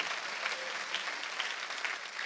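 Church congregation applauding during a Sunday worship sermon, steady dense clapping filling the whole stretch at moderate level with no voices over it.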